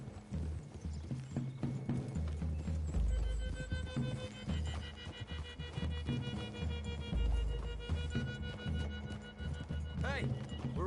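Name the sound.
horses walking, from the video game Red Dead Redemption 2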